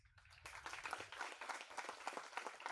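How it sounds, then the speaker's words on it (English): Faint but clear applause rises at a summit event as an audience welcomes a guest, a scattered patter of many hands clapping steadily for a few seconds. "Let's welcome him with a grand applause."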